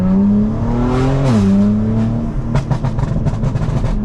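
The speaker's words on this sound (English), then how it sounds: "The burbles are just ridiculous" A loud BMW G82 M4 engine note rises and drops, then a string of sharp, irregular exhaust pops and crackles burbles out as the revs fall, tuned on MHD.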